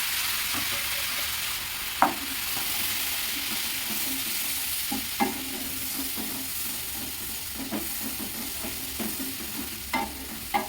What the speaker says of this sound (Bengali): এবার ওই পেস্ট করে রাখা মশলাটা এতে দিয়ে দেবো দিয়ে ভালো করে কষে নেবো